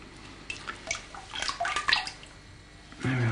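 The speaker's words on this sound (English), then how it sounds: "I'm going to pour the glaze in and quickly pour it out again" Ceramic glaze poured into a pot and swiftly poured back out, giving a series of close liquid splashes and trickles, with a louder sloshing pour near the end.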